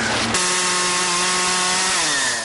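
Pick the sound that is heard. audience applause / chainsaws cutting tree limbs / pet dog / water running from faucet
chainsaws cutting tree limbs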